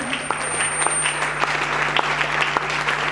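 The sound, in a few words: congregation applauding and acclaiming Jesus in church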